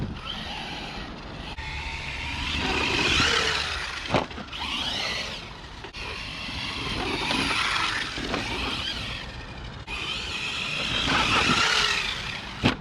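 An Arrma Mojave 6S RC car drives outdoors with a high electric motor whine that rises and falls in repeated bursts, mixed with rough tire and terrain noise and a couple of sharp knocks.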